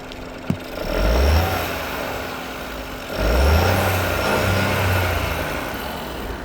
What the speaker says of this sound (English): I'll give it a rev first from the inside of the vehicle.